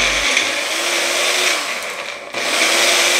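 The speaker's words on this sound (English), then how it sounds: "I think I'm breaking our blender." A kitchen blender whirs loudly as it blends a thick purple breakfast smoothie, motor strained and steady, briefly dipping and cutting out before surging back up, with no talking.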